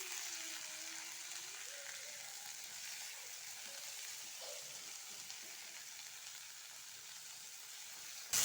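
Onions softened in a pan with two tomatoes just added for a bitter gourd tamarind kuzhambu give off a steady, faint sizzle that hisses evenly throughout, with no voices.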